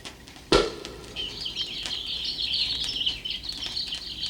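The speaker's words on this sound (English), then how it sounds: "These nightingale's tongues aren't well seasoned at all. They're still chirping." Chirping and tweeting like small birds rises from an uncorked bottle of nightingale's tongues, a continuous high twittering after a sharp pop, moderately loud over a quiet room.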